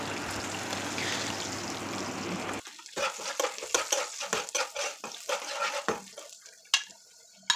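Urad dal, ginger and cashews frying in coconut oil and ghee: a loud hissing sizzle at first, then a quieter crackle punctuated by sharp spatula taps and scrapes against the pan, close by.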